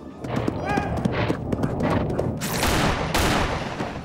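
Gunshots fired at a charging bull, several sharp cracks in quick succession amid rumbling commotion and movement, loud and close.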